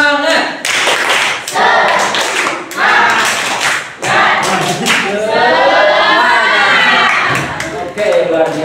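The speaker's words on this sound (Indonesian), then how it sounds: "Oke, tepuk semangat dulu lah ya, tepuk semangat dulu. Tepuk semangat." A classroom of students claps a loud rhythmic spirit chant together, steady patterned hand claps mixed with chanting voices and shouts throughout, close and energetic.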